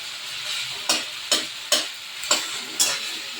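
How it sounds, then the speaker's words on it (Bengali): Tomato, boiled chana dal and peanuts fry in oil in a pan, a constant close sizzle broken by five sharp, evenly spaced scrapes of a spatula stirring, with no voices. "আমি এর মধ্যেই বাদামটা দিয়ে একটু ভালো করে কষে নেব এই যে ডালের সিদ্ধ দিয়েছিলাম টমেটোটা দিয়ে দিলাম"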